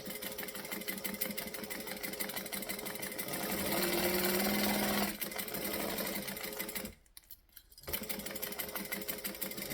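A sewing machine runs close and steady, stitching a quarter-inch seam with a rapid even needle rhythm, pausing briefly near the end before resuming, with no voices.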